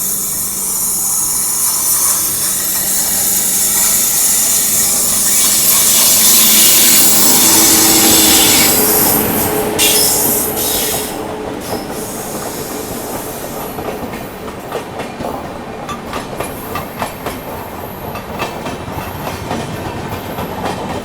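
Sealdah Rajdhani Express running alongside on a parallel track, a loud close rumble and rushing roar that swells then eases into steady clickety-clack wheel beats over the rails, with no voices.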